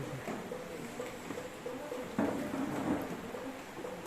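Steady rain falls throughout with a dense, continuous hiss, and a louder swell comes in midway.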